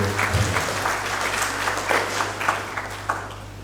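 Crowd applause at a Diwali fair in 2021, a steady wash of many hands clapping at moderate distance over a low constant hum, with no voices standing out.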